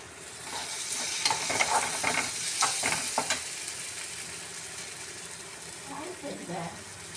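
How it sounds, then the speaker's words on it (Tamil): Upma made from leftover idli and dosa stirred in a pan, a run of scraping, clattering spoon strokes over a soft sizzle, close by, with a voice speaking briefly near the end. "அதை சரி உப்புமா கிண்டி விடுவோம். இட்லியும் தோசையும் சேர்த்து உப்புமா"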